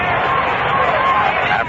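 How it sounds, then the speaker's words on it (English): A shirt-sleeve afternoon crowd at a 1964 Mets vs Phillies baseball game on Father's Day gives off a steady, dense murmur of distant voices, with speech running over it throughout. "This is a typical shirt sleeve crowd on hand this afternoon."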